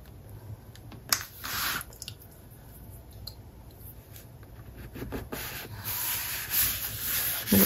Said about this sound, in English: I'm going to tuck it slightly into the pocket and then back it out